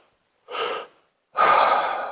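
Two deep breaths made as a guided breathing exercise, a short inhale followed by a longer, louder forceful exhale, close and alone with no talk.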